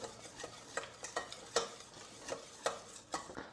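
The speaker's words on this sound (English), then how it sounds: "So I'll add another half tablespoon of flour and mix it together." A butter and flour roux is stirred in a frying pan, giving soft, repeated scraping and swishing strokes at an uneven rhythm, close by and with no voices.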